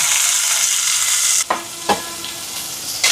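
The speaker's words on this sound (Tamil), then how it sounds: "இப்போ பாருங்க, இங்கே வெங்காயம் வதங்கி வருது" Onions, with mustard seeds, fennel, green chilli and garlic, sizzle steadily in hot oil in a pan, a bright continuous hiss broken by two or three short scraping stirs partway through.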